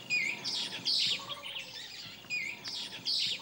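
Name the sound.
birds chirping along river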